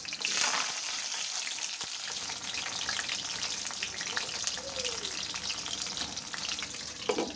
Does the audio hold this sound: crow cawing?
no